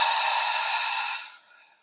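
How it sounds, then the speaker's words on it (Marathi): A single slow breath pushed out through the mouth during a seated breathing exercise, a soft airy rush close to the mic that holds steady and then fades away near the end, with no talking. "तोंडाने सोडा."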